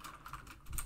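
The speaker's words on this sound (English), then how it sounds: "you can go watch my keyboard clicking sounds" Computer keyboard keys clatter in a quick, faint run of typing clicks, close by and alone for under a second.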